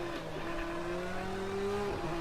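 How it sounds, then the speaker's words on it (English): Tire screech from a Porsche 911 GT3 on racing slicks at Long Beach in Project Cars 2, a sustained squealing tone over a steady engine drone, close and fairly loud. "you're going to hear him screech a lot more than usual. But yeah, it's just the stretching of the rubber."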